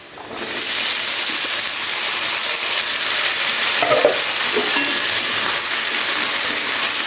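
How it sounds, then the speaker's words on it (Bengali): Potato, beans, carrot and capsicum frying together for sabudana pulao, a loud, dense sizzle that bursts in at the start and holds steady, with soft stirring scrapes mixed in and no one speaking. "এবারে সমস্ত সবজিকে একসাথে খুব ভালো করে একটু সময় নিয়ে ভেজে নেব প্রথমে"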